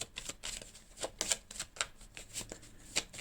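Tarot cards being shuffled, a run of crisp, papery riffles and slaps in an irregular rhythm, close and fairly quiet with no talking.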